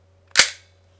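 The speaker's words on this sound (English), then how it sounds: "For those people who don't know what airsoft is, it fires BBs." A single sharp pop from an airsoft gas gun, a Nineball gas-powered model, firing a BB, with a quick burst and short decay, close and fairly loud over a faint steady hum.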